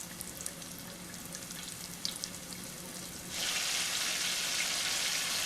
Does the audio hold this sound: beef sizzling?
yes